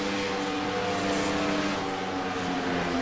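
Stock race cars in a sim racing game at Michigan International Speedway drone steadily at high revs, a dense, continuous engine roar heard close up without pause.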